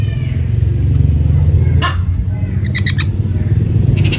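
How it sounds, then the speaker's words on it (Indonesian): A newly arrived young pet bird gives a few sharp, short squawks over a constant low droning hum, the calls clustered near the end. "Baru sampai semalam burung ni."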